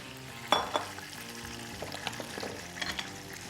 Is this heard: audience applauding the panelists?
no